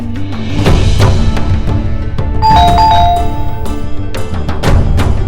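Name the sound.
doorbell ringing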